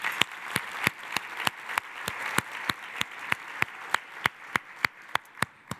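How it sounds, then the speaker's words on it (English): Audience applause for corporate investors at a Charlotte business outlook event: a steady wash of clapping from a room crowd, punctuated by sharp, louder individual claps landing in a regular rhythm close by. "Let's give them a round of applause"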